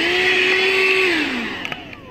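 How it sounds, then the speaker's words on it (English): An Armor All 12V car vacuum whines loudly and steadily up close, its pitch dipping as the motor slows toward the end, with a few faint knocks at the finish. "So let's just vacuum the carpet."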